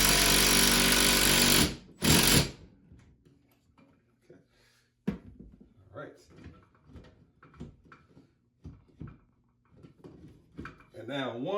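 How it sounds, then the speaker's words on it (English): A power tool drives the bottom bolt of a TV wall mount in a loud, close burst, then gives a second short whir, followed by clunks and handling noises as a person talks. "So I'm gonna put the bottom bolt on now."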